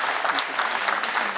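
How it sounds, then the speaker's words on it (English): Steady, dense applause from an audience at the launch of a university centre for sustainable development fills the whole moment, an even roar of clapping with no talking. "So please give him a warm applause,"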